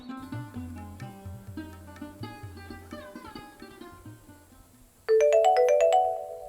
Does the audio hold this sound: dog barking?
no